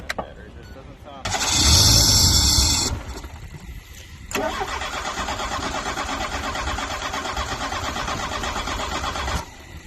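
1985 Shelby Charger engine cranking on a low battery, a loud burst of starter churning followed by a longer, weaker rhythmic cranking that fails to catch, close by with a voice heard briefly.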